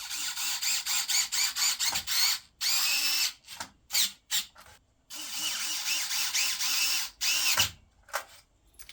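Power drill driving screws through brackets while building a NAS from junk parts: repeated whirring bursts, short stuttering pulses then longer sustained runs with ratcheting clutch clicks, close and fairly loud, separated by brief pauses.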